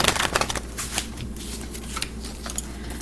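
Tarot cards are shuffled by hand close to the mic, a continuous papery riffling with soft irregular flicks and taps, over a low steady background hum.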